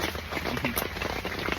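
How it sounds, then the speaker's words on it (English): Rain falling on a tent while camping, a dense, steady patter of drops on the fabric heard from inside, continuous and fairly loud with no voices. "So this is day 2 of camping, and it is raining."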